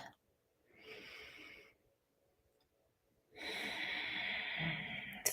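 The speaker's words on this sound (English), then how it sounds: "Feeling the direct experience of breathing in your chest." Two slow, quiet breaths in a calm mindfulness setting, one soft breath around a second long, then a pause, then a longer, fuller breath close to the microphone.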